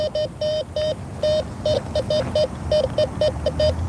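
A Bounty Hunter Tracker IV metal detector gives a string of short, even electronic beeps in a quick, slightly irregular rhythm as it sweeps over a sidewalk, heard close over soft outdoor background noise.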